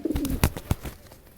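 A pet pigeon or dove coos in short soft bursts as it is released indoors, a low warbling call near and moderately loud over a brief moment of quiet room sound.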